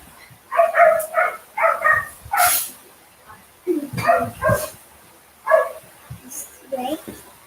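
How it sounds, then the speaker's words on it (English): Several dogs at home bark and yip excitedly in short, loud bursts and clusters, with brief quiet gaps between the outbursts. "the dogs here like to get loud when they get excited."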